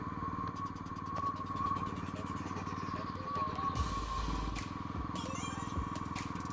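A Royal Enfield Standard 350 motorcycle cruising at 50 to 60 km/h, with a steady low thumping engine note under wind noise and a brief louder rumble partway through.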